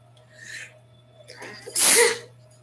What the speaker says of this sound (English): I can't even say the word allergy that I start sneezing.